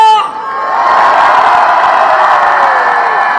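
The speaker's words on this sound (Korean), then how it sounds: "윤석열 대통령님, 또 우리의 함성이 들리십니까?" A large political rally crowd roars with shouting and cheering, a loud sustained swell of many voices that rises after a brief dip and holds strong, with whoops rising above the mass.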